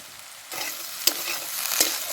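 Chowmein vegetables and soybean chunks stirred in a hot pan, a steady close sizzle with a few sharp scrapes of the spatula against the metal, no voices.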